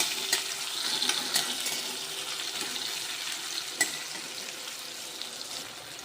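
Tomatoes for a Marathwada-style sushila cook in a pan with a steady, moderate frying sizzle, broken by a few sharp clinks of a spoon against the pan.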